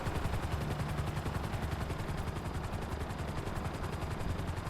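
Annihilator helicopter in GTA 5 Online firing its guns, rapid continuous bursts of gunfire over the steady chop of rotor blades, moderately loud and unbroken throughout.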